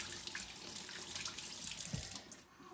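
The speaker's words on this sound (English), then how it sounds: "we want to do a good thorough job washing our hands" Warm water runs steadily from a tap into a sink while hands are scrubbed with soap, a continuous close splashing hiss with no voices.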